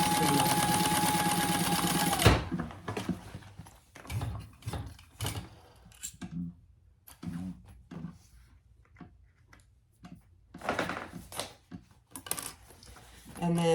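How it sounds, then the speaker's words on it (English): Sewing machine stitching a piece onto a shoulder bag; a continuous close motor hum for about two seconds, followed by scattered handling clicks and knocks of fabric and the machine. "I'm going to stitch that on."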